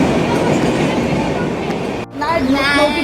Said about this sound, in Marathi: मी पण चालते ट्रेन मधून.